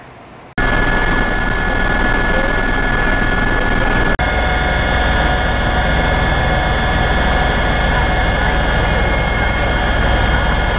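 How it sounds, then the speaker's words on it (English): A Newport Beach Police Department helicopter heard from inside during a ride-along, with a loud, steady engine and rotor drone and a constant high whine filling the cabin throughout, with no talking. "tonight I'm going on a ride-along in the police helicopter with Sergeant Tom Fishbacher."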